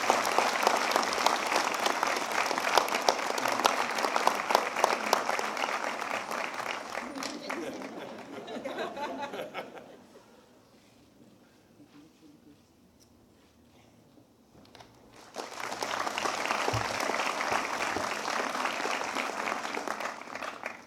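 Sustained applause from a large commencement audience fills the hall, fades to near silence midway, then swells again into full clapping near the end.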